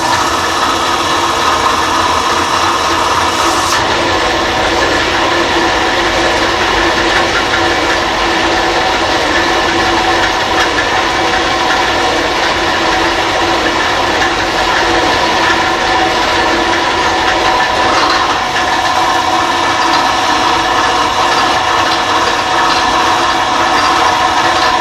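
A metal shaper runs steadily while cutting a hydraulic press plate, giving a continuous loud mechanical clatter and ratcheting hum of gears throughout, with no voices.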